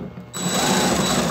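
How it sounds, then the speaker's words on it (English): A drill boring through glass, a steady high-pitched whine and grinding that starts abruptly after a short quiet moment and holds loud and even to the end. "Is this what they heard, the drilling?"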